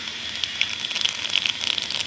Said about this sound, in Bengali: কালো জিরে দিয়ে দিলাম,